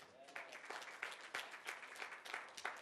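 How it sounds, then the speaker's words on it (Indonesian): Church congregation applauding during a sermon, a steady wash of many hands clapping with rhythmic surges, moderately loud and filling the room without talk over it. "Tepuk tangan yang dahsyat."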